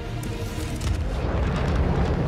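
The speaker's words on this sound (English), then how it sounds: "I'm going to turn missile base to target 4-7 and firing" Missile launch in the space game Star Citizen near an asteroid field, a loud, sustained low rumbling roar that swells and holds steady for a couple of seconds with no voices.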